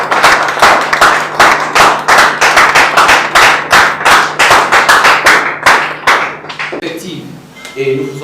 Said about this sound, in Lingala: Est-ce que nous pouvons applaudir ces merveilleux couples?